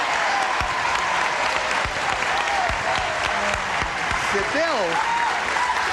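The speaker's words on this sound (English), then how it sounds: "Would you all join me in a brisk round of applause" Studio audience applause on a 1984 Match Game–Hollywood Squares game show, steady and full, with a voice briefly calling out over it and some whistling tones.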